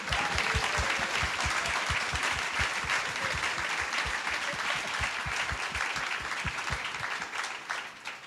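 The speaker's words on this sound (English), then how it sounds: "let's give him a round of applause for existing" An audience at a celebration for photographer Cecil Williams breaks into steady, sustained applause, many hands clapping at once, fading slightly toward the end.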